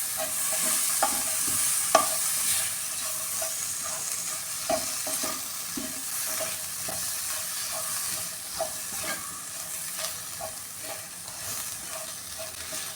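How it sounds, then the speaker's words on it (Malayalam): Chopped tomato fries with spice powders in a pan for chicken curry, giving a continuous low sizzle broken by irregular scraping stirs and occasional sharp utensil clicks against the pan, close up and with no voices. "ഇതിലേക്ക് കട്ട് ചെയ്ത് വെച്ചിരിക്കുന്ന ടൊമാറ്റോ അതും കൂടെ ചേർത്ത് കൊടുക്കാം"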